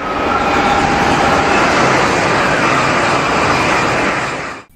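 A toy high-speed train gives a steady, loud rushing roar, with a faint whine above it, holding level for several seconds before cutting off abruptly.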